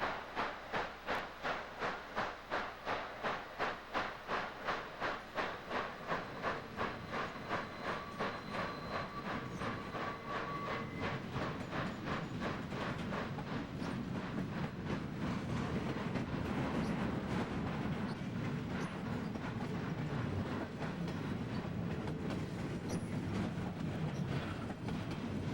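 An HO-scale Union Pacific Big Boy model locomotive runs around a curve on a 1950s-era layout, giving a steady rhythmic clickety-clack of wheels over rail joints with a soft mechanical hum, continuous and fairly close.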